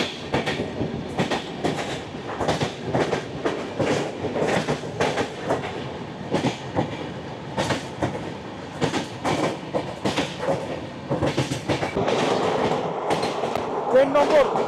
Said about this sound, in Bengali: আমাদের ট্রেন ছেড়ে দিল ডেহারি অনশন